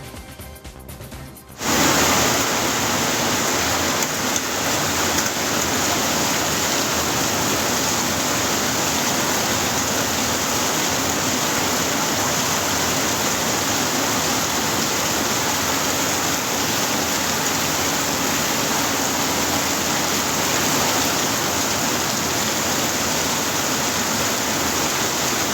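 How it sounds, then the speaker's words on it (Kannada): Heavy rain pouring down in a sudden downpour, a dense, loud, unbroken hiss that begins abruptly after a short quieter moment and holds steady for the whole stretch with no voices. "ದಿಢೀರ್ ಸುರಿದ ಭಾರೀ ಮಳೆಗೆ ಜನಜೀವನ ಅಸ್ತವ್ಯಸ್ತಗೊಂಡಿದೆ"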